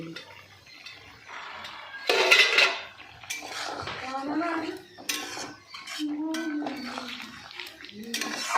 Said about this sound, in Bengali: আমি ঢাকনাটা খুলে নিচ্ছি